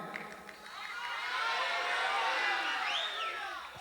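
Church congregation cheering and applauding, a swelling wash of crowd voices and clapping at moderate distance that builds, holds, then fades slightly.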